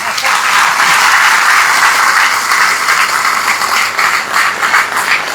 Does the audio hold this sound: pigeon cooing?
no